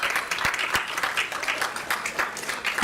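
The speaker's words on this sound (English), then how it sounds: "Could we give a round of applause to our Madison Park students" A room at a school governing board meeting gives Madison Park students a round of applause: dense, sustained clapping from many hands with sharp individual claps, loud and continuous throughout.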